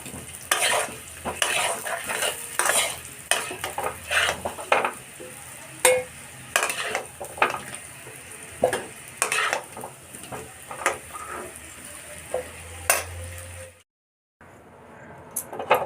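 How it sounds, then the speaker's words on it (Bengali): Fried potatoes are scooped from a pan into a bowl: a string of clinks and scrapes against cookware over a light sizzle, close by, ending with a short silence. "এবার আমি আলুটা বাটিতে তুলে নিচ্ছি।"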